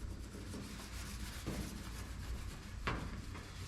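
A clay bar rubbing over the rough, damaged paint of a daily-driver Chevrolet Silverado pickup gives a steady, gritty, sandpaper-like scrape, with a few sharper strokes standing out near the end.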